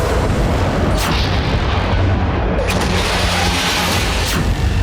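Israeli missile strikes hit the T4 military airbase in Syria, producing a loud, unbroken roar of heavy rumbling blasts with a few stronger booms rising out of the din.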